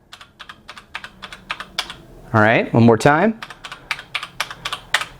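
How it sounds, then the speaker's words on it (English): Mechanical orange-switch keys on a Razer Pro Type keyboard clatter in quick, even keystrokes close up, broken midway by a short burst of speech before the typing resumes. "these are mechanical keys that Razer's using. These are orange keys. So have a listen."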